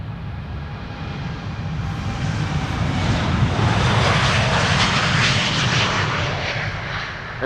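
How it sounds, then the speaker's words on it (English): An Air Europa airliner bound for Madrid departs Amsterdam Schiphol, its engines swelling into a loud broad roar that peaks midway and then eases slightly. "Air Europa is now on the move, going to Madrid"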